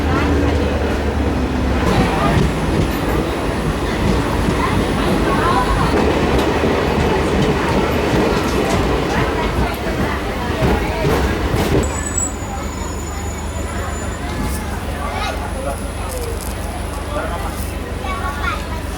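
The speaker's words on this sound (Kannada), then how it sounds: "ಕಲಬುರ್ಗಿ ಹಾಲ್ಟ್ ರೈಲ್ವೆ ಸ್ಟೇಷನಿಗೆ ಎಂಟ್ರ್ ಆಗ್ಯಾವ ನೋಡ್ರಿ ನಾವೀಗ" DEMU express train 11415 from Solapur to Hosapete pulls into Kalaburagi halt railway station, heard from on board as a steady loud rumble and rattle of the carriage with clickety-clack and a brief high squeal, while someone talks over it.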